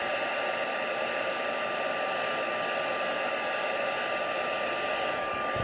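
A heat tool blows steadily while drying the backs of stamped card pieces, giving a continuous, even whirring hiss close by with no talk.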